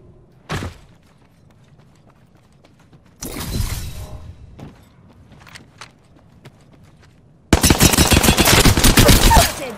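Bursts of gunfire in the Apex Legends battle royale game: a sharp shot near the start, a short burst around the middle, then a loud sustained rapid-fire volley at the end, with quieter game sounds in between.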